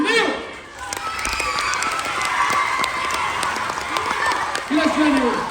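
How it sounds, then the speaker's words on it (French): A game show studio audience applauds two young champions, with sustained dense clapping and crowd noise all the way through while a host's voice cuts in briefly near the start and end. "je vous demande d'applaudir nos 2 champions qui s'appellent Anaël et Néo."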